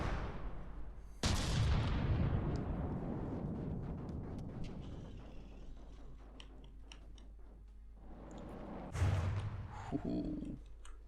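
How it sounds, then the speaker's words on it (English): A video game weapon firing shells, with two heavy booming blasts that roll into long rumbling decay, loud and close, with faint crackling debris in between. "still some shells, so it'll keep firing for a while."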